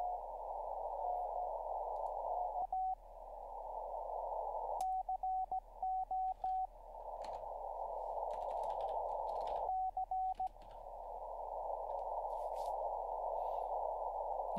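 Slow Morse code on amateur radio: a steady tone broken by long pauses and short keyed bursts, heard over a faint low hum.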